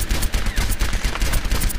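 Rapid gunfire at training bots in the team shooter Overwatch, a loud burst of sharp, evenly spaced shots that repeats in quick rhythm for the whole stretch.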